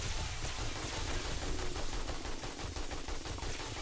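AK rifle in the 7 Days to Die video game, firing continuously for several seconds in a dense automatic burst of rapid cracks, loud and steady with no pauses.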